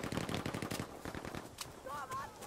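Machine gun fire in the video game Battlefield V, a rapid burst of close shots for about a second, then scattered echoing shots and faint game sounds.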